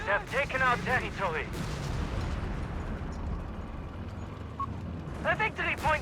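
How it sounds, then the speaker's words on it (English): Rapid fire from the Bofors 40mm anti-aircraft gun on a Crusader AA tank in the Company of Heroes 3 wartime strategy game, a dense rumbling barrage filling the middle, with someone talking before and after. "Crusader anti-aircraft tank here out of Nubosarus, mounting the Bofors 40mm anti-aircraft gun there"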